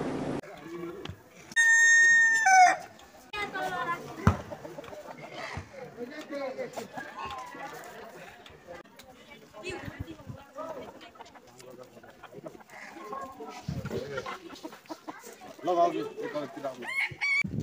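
Chickens crowing and clucking: a rooster's long cock-a-doodle-doo rings out early, followed by scattered clucks and bird calls through a busy outdoor scene, with another crow near the end.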